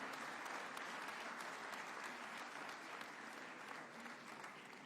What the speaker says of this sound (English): another hearty, warm clap for Sir Mo Ibrahim and His Excellency, the President, Dr. William Samoei Ruto